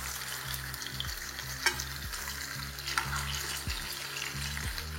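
Chicken pieces fry in hot oil for pulao, with a loud continuous sizzle broken by a few sharp clinks and scrapes of stirring close by.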